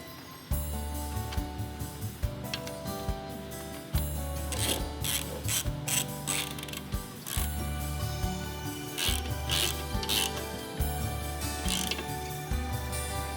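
Caliper bolts threaded back in with a ratchet during a brake rotor and pad install, a steady run of clicking mechanical ratcheting with metallic rubs and clanks, close and fairly loud, no talking.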